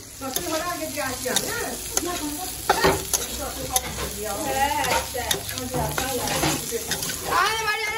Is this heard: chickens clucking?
no